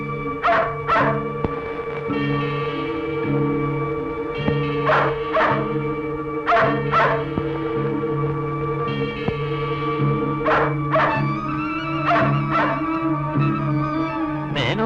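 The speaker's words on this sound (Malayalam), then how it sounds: "ഇത് മാലുവിന്റെ നായല്ലേ?" A dog barks in short paired yips and howling barks, several bursts spread across the stretch, fairly close and loud over a steady tonal background with no speech.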